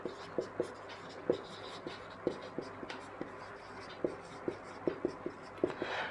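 A pen writing figures on paper, heard as close, quiet scratching strokes and taps in an irregular rhythm, with brief pauses between bursts.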